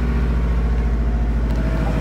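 A Subaru car engine idles after a start made without pressing the clutch, a loud, close, steady low rumble with an even pulsing throb throughout.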